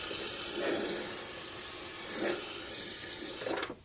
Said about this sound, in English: we're going to spray all down in the corner of that hood